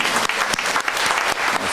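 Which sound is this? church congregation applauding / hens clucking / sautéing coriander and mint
church congregation applauding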